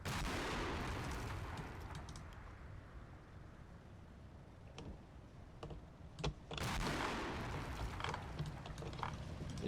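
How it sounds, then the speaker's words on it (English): Light mortars fire in a war game, a steady rumble of distant battle punctuated by sharp cracking reports, with a louder burst partway through and scattered pops after. "especially given the rate of fire that these bleeding light mortars go at"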